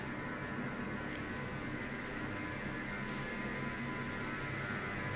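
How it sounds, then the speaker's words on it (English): Steady, even hum and faint hiss inside a hotel elevator, constant throughout with no talking. "In the elevator."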